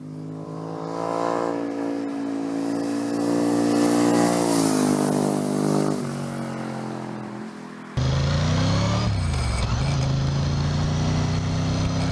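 A Ducati 998 motorcycle engine, 998 cc, revs loudly and steadily, the pitch climbing and falling, then cuts abruptly to a new, rougher near-field roar partway through, with no voices.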